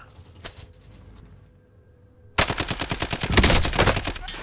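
Bursts of automatic gunfire in a video game, loud and dense after a quieter opening, with overlapping shots that seem to come from several directions at once.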